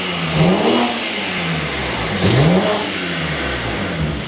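A BMW G82 M4 Competition revs hard twice, each rise and fall carrying a loud intake whoosh, with a steady engine drone between the pulls.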